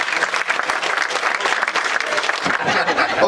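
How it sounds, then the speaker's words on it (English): A crowd at a Tranmere Rovers end-of-season awards night applauds an award presenter, with dense, loud, continuous clapping close by throughout. "To present the awards tonight, round of applause,"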